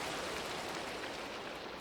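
Rain falls in the Cobblemon mod of Minecraft, a soft, continuous wash of hiss that holds evenly throughout with no voices.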